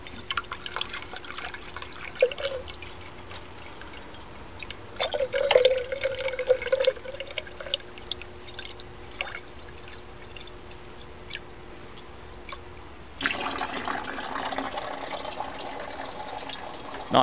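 Water trickles and drips from the outlet of a slow sand filter fed with harvested roof water, a thin steady flow with scattered drops, then a louder, fuller splashing stream near the end.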